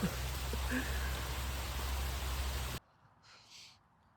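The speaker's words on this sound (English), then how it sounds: "the rain is dying down, but I am absolutely drenched" Heavy rain pours down on an open field in the UK, making a loud, dense hiss for most of the clip. It then cuts off abruptly, leaving faint quieter sounds behind.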